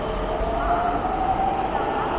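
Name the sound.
Pune Metro train departing the station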